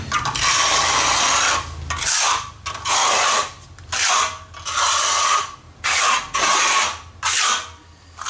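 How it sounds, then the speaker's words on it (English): A float rubbed back and forth over masonry grout on concrete or block, giving rhythmic gritty scraping strokes about once per second, close and fairly loud, with no voices. "where you're floating it out a little bit."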